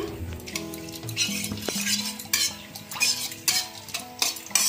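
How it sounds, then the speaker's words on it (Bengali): Bay leaf, dried chilli and whole garam masala frying in mustard oil in a hot kadai: a close, loud scraping and clinking of a metal utensil stirring the pan over a low sizzle, with no voices. "কড়াই গরম হয়ে গেছে, দিয়ে দেবো সরষের তেল, ফোড়নে দেবো তেজপাতা, শুকনো লঙ্কা, গোটা গরম মশলা"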